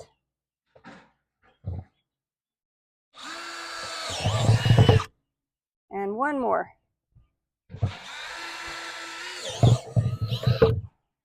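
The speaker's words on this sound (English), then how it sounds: "I've got a really big drill. This is about a 1/2 inch drill bit." A power drill with a 1/2 inch bit whirs in two long bursts while drilling drainage holes, with a short squeaky grinding sound between them and a brief spoken remark.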